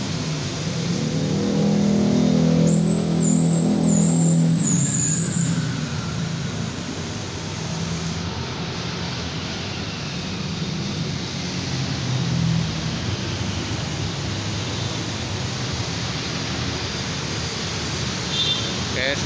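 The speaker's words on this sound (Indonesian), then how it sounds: "velgnya kita balancing terlebih dahulu supaya tetap stabil walaupun mobil dalam kecepatan tinggi" A wheel balancing machine spins a 20-inch HSR rim for a Toyota Fortuner, giving a steady, loud whirring hum that swells briefly early on and then holds an even drone in a workshop.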